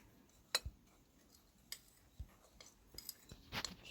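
A spoon stirs coconut sugar into dry ingredients in a bowl, giving faint scattered clinks and scrapes against the bowl with quiet gaps between them.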